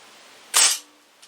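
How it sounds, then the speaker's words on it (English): A Diana Chaser .177 calibre air gun fires one sharp, loud, close shot with a short decay, followed by a faint click in an otherwise quiet setting. "Now I'm just going to fire a shot through here, just because now there's been a bunch of shots through the gun."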